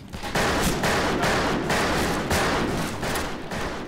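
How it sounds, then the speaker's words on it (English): A revolver fires rapidly in the western shooter game Fistful of Frags, with loud, close shots cracking in quick succession, almost blending into one another, for several seconds. "So I can actually rapid fire my revolver"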